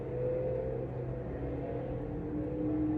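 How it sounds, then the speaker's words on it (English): A car passes outside an open window, a steady, moderately loud engine rumble and road noise that holds through the whole moment with no voices. "gonna wait for that car to pass"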